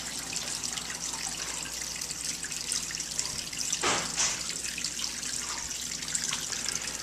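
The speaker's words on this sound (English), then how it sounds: "nice little water fountain thing here." Small outdoor water fountain trickling and splashing in a steady, soft wash of running water, with a brief louder splash in the middle.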